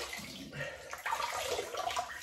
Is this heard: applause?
no